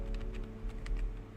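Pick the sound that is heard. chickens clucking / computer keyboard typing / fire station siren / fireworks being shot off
computer keyboard typing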